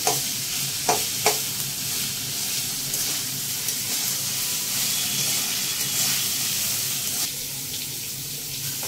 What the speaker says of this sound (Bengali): এটা একটু ভাজা হোক ততক্ষণ, আবার দেখাচ্ছি।